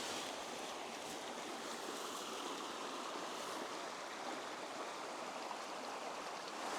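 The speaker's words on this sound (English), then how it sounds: "I can hear the sound of flowing water" Flowing water of a mountain stream near a campsite, a steady, even rush of broadband noise that holds unchanged throughout, close and fairly loud, with no voices.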